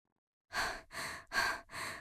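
A voice actor imitates a cartoon crow panting after flying in, giving four heavy, close breaths in a steady rhythm after a brief silence.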